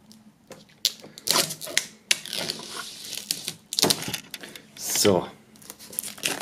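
Plastic wrap being pulled off and crinkled around a black-and-white metal box from a music sampler set, with close crackling and tearing bursts throughout and a voice speaking briefly.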